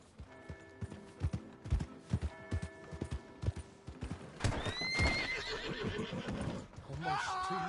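A horse in Red Dead Redemption 2 clops along in quick, evenly spaced hoofbeats, then lets out a loud, rising whinny, with a voice breaking in near the end.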